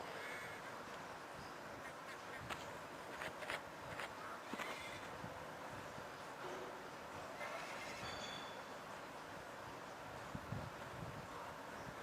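A horse neighs a few times at a distance amid faint outdoor ambience, with brief sharp calls and scattered clip-clop steps, quiet and with no talking.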